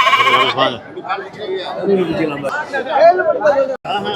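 Sheep lambs bleat repeatedly at a busy livestock market in Ranipettai, several close, wavering cries overlapping with loud nearby chatter and people talking.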